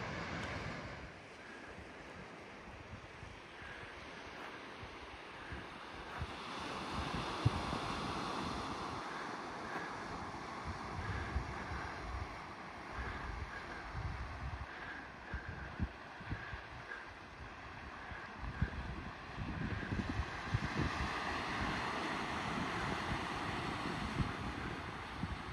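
Surf rolls and washes onto Fisheries Beach on the Heysen Trail near Cape Jervis, a soft, continuous wash of waves with wind brushing past the microphone, fairly faint and steady with gentle surges.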